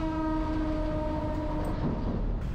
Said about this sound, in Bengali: সকালে আজকের মনে হয় এটা প্রথম ট্রেন। এখন নিচে দেখা যাচ্ছে ট্রেনটা।